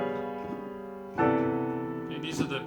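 Complex jazz chords with added tensions played on a keyboard, a sustained voicing followed by a second, brighter chord struck around the midpoint, with a faint voice at the end.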